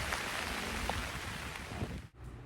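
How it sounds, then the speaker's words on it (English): Rain falls steadily outdoors in a garden during tomato transplanting, making a dense, even hiss that drops out abruptly near the end. "I'll just continue doing this in the rain."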